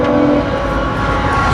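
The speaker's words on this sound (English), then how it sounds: "Bitch ass train fucking up my audio." A train rumbles past outside with a steady, loud horn blast near the start, its low drone filling the whole stretch without any speech.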